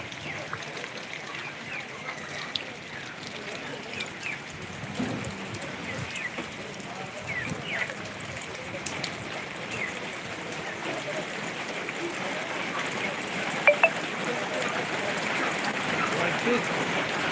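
Heavy unseasonal rain falls on Natepute town, a constant close patter and hiss of drops on surfaces that holds steady throughout and swells slightly toward the end.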